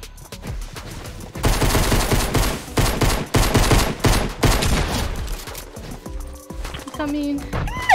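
Fortnite Battle Royale gunfire rattles in dense, rapid bursts of close, loud shots, separated by brief pauses, with talk mixed in and a short tonal game sound near the end.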